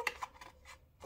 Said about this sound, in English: I can use some scissors just to clean off that little fluff there